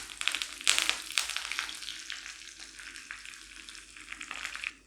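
Curry leaves splutter and fry in hot oil for Kerala beetroot pachadi, a quiet close crackling sizzle with scattered sharp pops over a soft continuous hiss.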